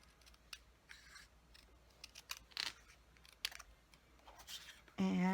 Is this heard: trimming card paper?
yes